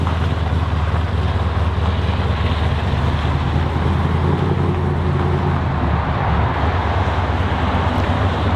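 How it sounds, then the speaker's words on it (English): Steady road traffic roars past close by, a continuous broad rush of cars with wind buffeting the microphone throughout and no clear separate pass-bys. "the traffic here hasn't gotten any better"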